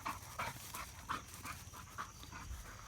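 An American Bulldog pants in quick, steady rhythmic breaths, close and fairly quiet, outdoors near a fence line with no one speaking.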